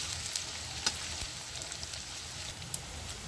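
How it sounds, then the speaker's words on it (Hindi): Onions fry in a pan while being browned for okra bhujia, a soft, steady sizzle with faint crackles and occasional stirring clicks, close and quiet. "प्याज को हम बिल्कुल ब्राउन करेंगे"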